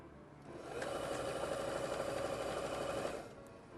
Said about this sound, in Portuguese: Vou costurar todos e vou abrir todas as costuras.